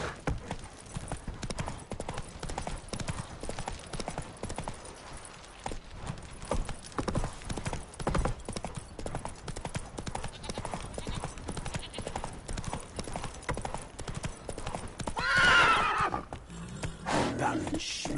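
Roach, the horse in The Witcher 3, trots with steady clip-clopping hooves and an occasional whinny, set against game music and ambience, while someone talks over it throughout.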